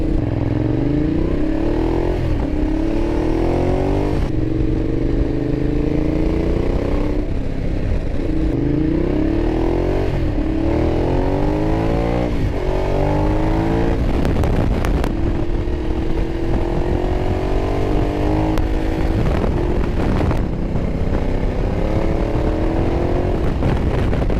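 A 2012 Ducati Diavel motorcycle riding along a bumpy secondary road: a loud continuous engine drone that rises through repeated gear pulls, with rattling jolts from the rough surface.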